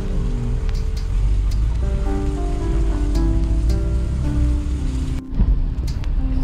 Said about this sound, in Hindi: सामने झरना गिर रहा है इतना बड़ा